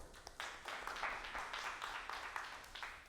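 Small group applauding a volunteer at a live brain-scanning demonstration, a quiet, fairly distant patter of clapping lasting a few seconds.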